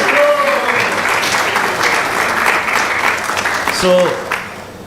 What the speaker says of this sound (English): So we would like to give a big round of applause and also welcome them with garlands.